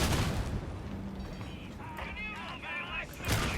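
A grenade blast in Warhammer 40,000: Darktide, playing as a Zealot, sounds as a fairly quiet burst at the start. Rumbling game noise and a second burst at the end follow.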